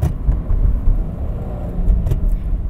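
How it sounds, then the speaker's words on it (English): A car engine rumbles deep and loud at close range during a heel-toe rev-match downshift, holding a steady throaty drone with slight surges. "I like to heel-toe rev match almost on every stoplight."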